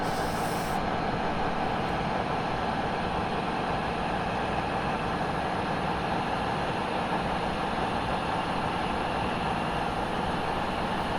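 A train in the Train Simulator game runs the North Wales Coast Line between Crewe and Holyhead in rainy weather, giving a steady, unbroken engine rumble and drone at constant loudness with no talking.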